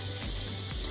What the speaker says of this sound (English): I'm just going to wash my hands now. Remember, hot water, 20 seconds, lots of soap.